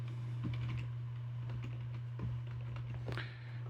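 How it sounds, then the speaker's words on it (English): Scattered keystrokes tap on a computer keyboard as a password is entered, soft irregular clicks close by over a steady low electrical hum. "I'm going to enter my password for my main router"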